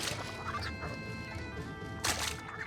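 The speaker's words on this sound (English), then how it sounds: "I call them tiger birds." Tiger bird creatures in the game Darkened Skye give clucking, fowl-like cries over a busy game soundscape, with a louder squawk near the end.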